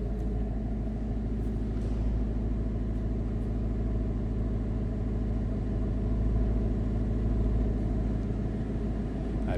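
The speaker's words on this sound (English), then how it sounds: "Nice sounding 5-liter. Of course, has a little bark to it when it's under acceleration or under throttle." A 2024 Ford Mustang GT coupe's 5-liter V8 runs at a steady idle, a deep, even, throbbing rumble heard close and continuous throughout, with no talk over it.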